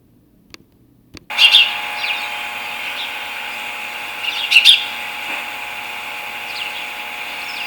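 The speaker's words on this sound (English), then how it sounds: "So that's the house sparrow." A house sparrow in the Bulkley Valley gives two short bursts of bright chirps, a few seconds apart, over a steady background hum.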